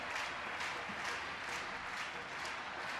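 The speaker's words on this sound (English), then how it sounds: "There's the crowd getting going." A crowd at a women's hockey World League match between Argentina and England claps in a steady, fairly faint wash of applause that stays even from start to finish.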